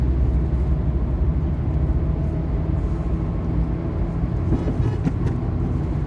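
Steady traffic drones along NICE Road, a busy highway near Bangalore where cars travel at widely varying speeds. The low continuous roar of passing vehicles stays even throughout, with no talk.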